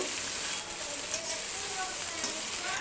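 Vegetables for Maggi fried rice sizzle and crackle softly in a hot pan, a steady quiet frying hiss with faint scraping now and then.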